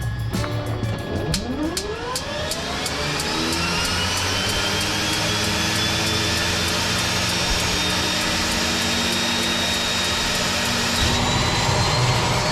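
A Cessna turboprop engine spools up with a rising whine and settles into a loud, steady roar and hum, sustained close by before departure.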